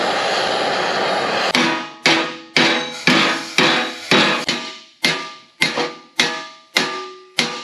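A steel panel on a 1939 Caterpillar D4 crawler is hammered straight, with a dozen loud ringing metallic blows at a steady, slightly uneven rhythm, close up and with no talking.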